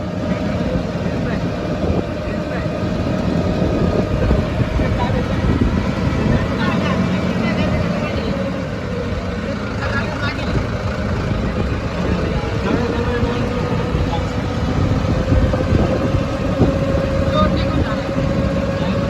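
A tractor carrying a load of bricks for house building runs with a loud, steady engine drone that holds unbroken for the whole stretch, with voices faintly present at times.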